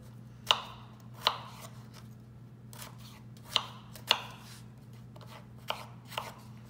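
A potato chopped with a knife on a cutting board, six sharp, close knocks spaced irregularly over a low steady hum, no talk.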